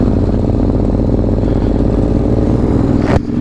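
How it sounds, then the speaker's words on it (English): A Yamaha FZ-07 motorcycle engine runs loud and close with a steady, throbbing drone while riding, ending with a short rattling clatter. "It's a Yamaha FZ07s."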